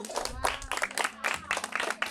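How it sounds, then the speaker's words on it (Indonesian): Several people clap together in a brief round of applause while voices talk over it. "Kasih tepuk tangan dong."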